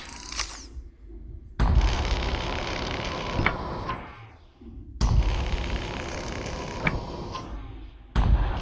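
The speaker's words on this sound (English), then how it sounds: "Looks like I'll have to cut my way in." A cutter tool slices through an access hatch in the video game Lone Echo 2, two long loud stretches of harsh grinding and rumbling, each lasting a few seconds, separated by brief quiet gaps and punctuated by metallic creaks.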